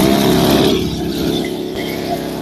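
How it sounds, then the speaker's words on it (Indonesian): A small engine on a sprayer machine is running, giving a loud, close, smooth steady hum with a fine regular pulsing and no voices over it. "Ini saya hidupkan, ini untuk mesin suaranya halus untuk jenis tipe ini."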